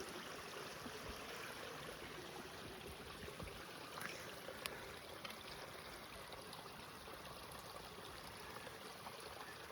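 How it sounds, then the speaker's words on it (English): Fresh mountain spring water flows steadily outdoors, a continuous soft stream burble with faint trickles, no voices. "I know where actual springs are at and where it's literally coming fresh out of the mountains and you can just drink it"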